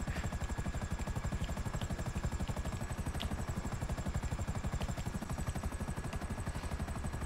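A helicopter's rotor thuds in a steady, rapid rhythm throughout in GTA V Online, close and constant with a whining engine tone above it.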